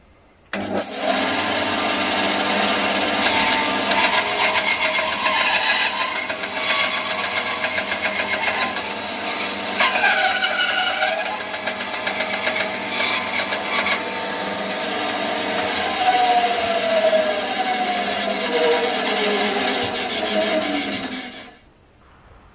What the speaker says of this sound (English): I've adjusted the bed of the bandsaw to 45 degrees to actually cut these corners off.